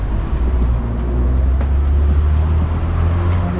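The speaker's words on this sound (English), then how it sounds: "I'm surprised with all the divert traffic." Diverted road traffic streams past on a busy road amid nearby road closures, a constant close rumble of engines and tyres with vehicles passing one after another.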